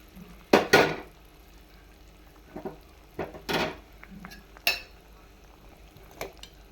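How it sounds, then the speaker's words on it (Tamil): Several clattering bursts of fried okra tumbling into a pan of simmering tamarind gravy, with scraping and stirring sounds between them, close by. "இப்போ நான் தான் வறுத்து வச்சுருக்கிற வெண்டைக்காவை சேர்த்துக்குவோம்"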